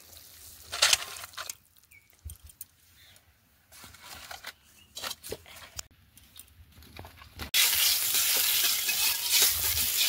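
Ash gourd curry with fried lentil dumplings is stirred in an oiled pan, giving intermittent scraping and clinking stirs with light sizzling, then a sudden steady loud sizzle near the end, close by and without talk.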